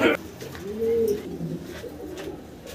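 Pigeons coo at a crowded pigeon market in Bangladesh, with one loud, close, rolling coo followed by softer ones over a faint background murmur.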